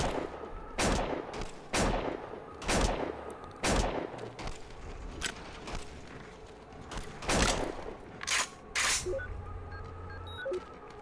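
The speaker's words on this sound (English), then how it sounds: "So you can see my new rifle does pretty good damage now." Rifle gunfire in the video game Neocron, a string of sharp separate shots at an irregular pace, some coming in quick pairs, over faint game ambience with no talking.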